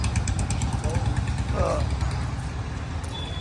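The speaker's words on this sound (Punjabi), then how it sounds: "ਆਪਾਂ ਬਸ ਮਾਰ ਬੁਲਟ ਨੂੰ ਕਿੱਕ ਜਟਾ" A Bullet motorcycle engine, just kick-started, rumbles steadily at idle, low and continuous, with some background noise over it.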